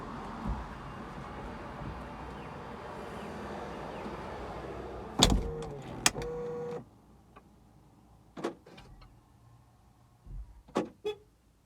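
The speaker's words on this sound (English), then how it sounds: "I'm going to close the tailgate and hopefully the phone stays up." A steady motorized whir runs, then a solid thump as the tailgate of a Land Rover Discovery 5 shuts, followed by a few sharp clicks and clunks in quiet.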